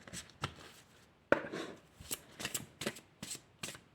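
A deck of oracle cards is shuffled by hand, giving a string of soft, quick riffling and slapping bursts at uneven intervals, close and fairly quiet, with no voices.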